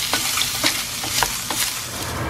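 Food frying and browning in a pan, with a steady sizzle and occasional soft stirring scrapes, close and moderately loud with no talking.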